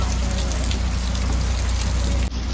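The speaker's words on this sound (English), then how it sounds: "Whoa, it's raining like crazy out there." Heavy rain pours outside in a dense, steady hiss of drops on surfaces, loud and continuous with a brief dip near the end and no talk.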